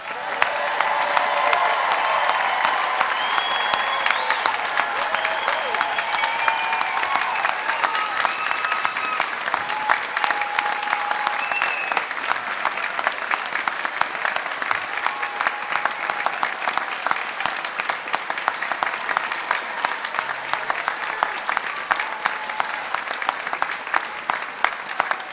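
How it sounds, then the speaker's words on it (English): Thunderous applause fills a university graduate commencement ceremony, a dense, sustained roar of clapping from a large crowd that holds steady for the whole stretch. "let us give you a big, thunderous round of applause."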